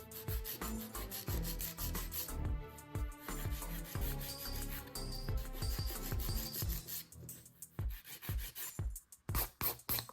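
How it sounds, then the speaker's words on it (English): A nail file scrapes along the sides of fingernails in quick, rhythmic close-up strokes. Short, bright, raspy rubs repeat throughout, with brief gaps between passes. "Go ahead and file the sides."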